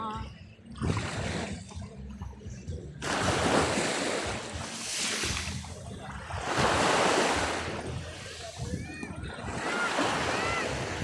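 Ocean waves surging and washing in repeated swells, loud and close, mixed with heavy wind buffeting the microphone and a few faint voices in the background.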